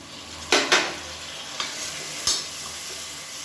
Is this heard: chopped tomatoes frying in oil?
yes